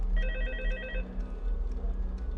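Telephone ringing in the game FNAF Help Wanted, playing the FNAF 2 night: one short, loud burst of a trilling electronic phone bell that cuts off after about a second, then leaves a low hum.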